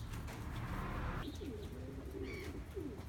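Racing pigeons in a loft housing about twenty young cocks, soft cooing calls rising and falling over a low background hum, with a few faint chirps, close and fairly quiet.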